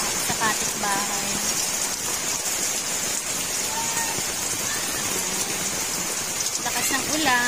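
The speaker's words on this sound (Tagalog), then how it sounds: "Lakas ng ulan." Heavy rain pours steadily and loudly on surfaces near a chicken coop, a constant hiss with voices and a few faint bird calls underneath.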